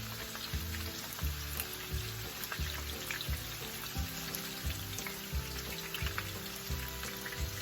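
A cheese taco frying in hot oil, a continuous crackling sizzle with a bubbling patter, steady and moderately quiet, no talking.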